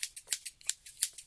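Scissors cut hair in the film The Man Who Wasn't There, about nine crisp, rapid metallic snips in a quick uneven rhythm, close and clear with no talk.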